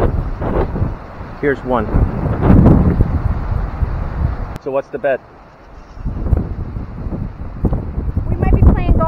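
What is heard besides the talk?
wind blowing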